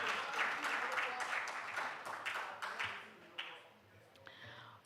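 Students and spectators at a school quiz competition give a short round of clapping that fades away, ending in a few scattered claps against a quiet room.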